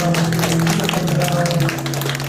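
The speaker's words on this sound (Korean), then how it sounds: "우리 경배의 박수로 우리 환영하겠습니다." A church congregation at a Sunday Advent service claps to welcome newcomers, a continuous patter of applause over sustained keyboard or organ tones.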